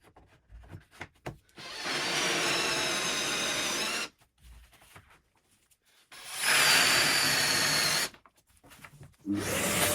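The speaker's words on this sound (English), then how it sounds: "With the positions marked on the doors, I can drill them out." A power drill whines loudly in three long bursts, grinding into wooden IKEA cabinet doors to drill hinge holes, separated by short pauses with light handling knocks.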